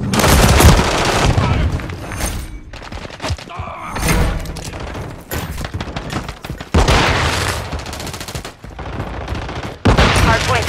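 Call of Duty gunfire: rapid bursts of automatic shots and booming blasts crackle loudly and repeatedly, overlapping in dense volleys with short gaps between bursts.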